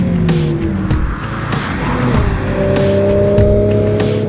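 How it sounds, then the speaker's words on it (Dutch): A Porsche on a driver-training course slows under braking, a close, loud engine note with shifting tones and tyre noise, a few sharp knocks along the way. "Nu remmen, hop."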